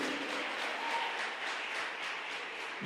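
A church congregation applauding, a soft, steady wash of many hands clapping that sounds distant and continuous with no single claps standing out.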